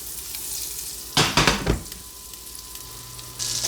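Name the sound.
60 g butter melting and sizzling in a pan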